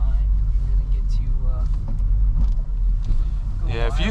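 A 2008 Honda Civic Si with a K20 engine pulls while driving, its exhaust rumble heavy and steady and its pitch climbing toward the end of the clip. People talk over the engine in the cabin.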